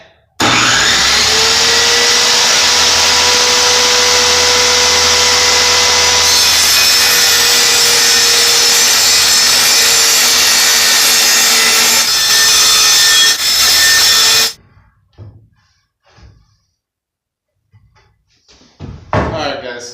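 A power saw rips through long wood pieces during a DIY tiny house build, a loud, steady, close whine that holds for about fourteen seconds before cutting off, followed by quieter knocks and handling noises.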